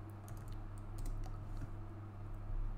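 Brief quick keystrokes on a computer keyboard while entering text into a web page, clicking lightly in a short run over a steady low background hum.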